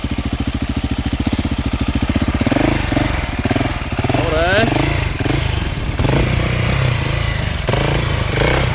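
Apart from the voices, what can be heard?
KTM 690 Enduro R motorcycle ridden slowly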